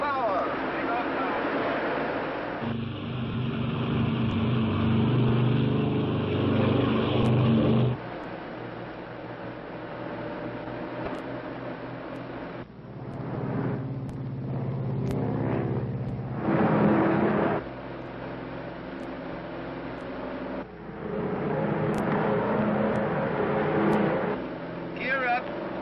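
Lockheed Super Constellation airliner on a 1953 New York to Miami flight, its piston engines droning loud and steady at takeoff power with shifting tone as the roar builds, voices speaking over it.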